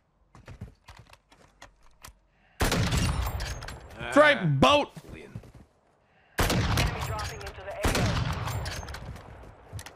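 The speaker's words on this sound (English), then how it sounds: "I hear gunshots, and I want to get in the on the action." Bursts of rapid Lachmann Sub gunfire in Warzone 2 crackle in two loud volleys with a quiet gap between, and a voice shouts briefly amid the shooting.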